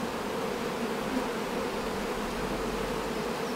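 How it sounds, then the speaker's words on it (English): Honeybees cluster around a queen cage inside an aggressive hive being re-queened, producing a dense, steady buzzing drone that stays close and even throughout. "you can see how all these bees have clustered around this cage now."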